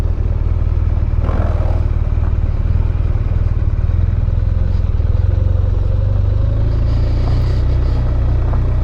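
An old BMW RT motorcycle engine runs steadily at idle, a low continuous rumble with a faint mechanical clatter throughout, no voices.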